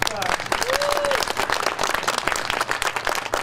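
Outdoor crowd applauding the U.S. Coast Guard at a flagpole raising ceremony held by a railroad historical society, steady clapping throughout with a voice speaking over it.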